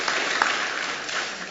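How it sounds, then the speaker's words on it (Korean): Church congregation clapping during a Sunday morning worship service, a steady dense wash of applause lasting the whole moment with no break. "우리 하나 되신 우리 예수님께 박수로 감사하겠습니다"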